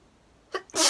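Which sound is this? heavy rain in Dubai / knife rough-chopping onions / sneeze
sneeze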